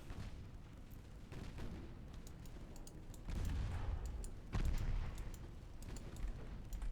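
Warships exchange naval gunfire in the game Ultimate Admiral: Dreadnoughts. Faint, muffled booms land in a few heavy thumps over a low rumbling background.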